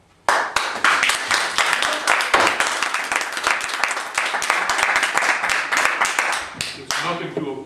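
A city council meeting audience breaks into sustained applause that begins abruptly, stays loud and dense for about six seconds, then thins and tapers off at the end.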